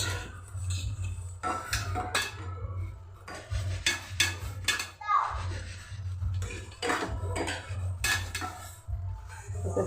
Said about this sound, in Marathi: छान मस्त असं परतून परतून परतून त्याच्यामध्ये घ्यायचं